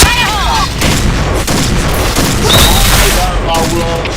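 Dense video game gunfire, loud and continuous, with rapid bursts and booming shots packed together and some voice and tonal game sounds mixed into the barrage.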